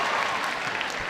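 Home crowd at a school netball match between Cheltenham College and Malvern College cheering and clapping ahead of a centre pass, a steady dense wash of applause lasting just over a second.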